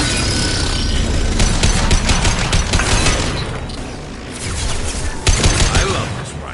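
Rifle fire in the video game Mass Effect Legendary Edition, loud, dense automatic bursts with booming impacts during a battle, pausing briefly before another sharp volley.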